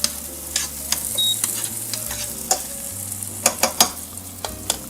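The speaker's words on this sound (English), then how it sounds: "Hearing the sizzling sound of vegetables and whatever it is that you're cooking." Vegetables fry in a pan with a steady sizzle. Sharp clinks and scrapes from stirring punctuate it throughout, close and fairly loud, with no voices.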